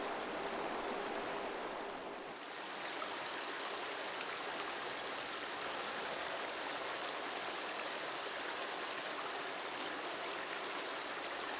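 A fast-flowing Himalayan river rushes past with a constant, dense roar of churning water that holds at an even level throughout, with no voices.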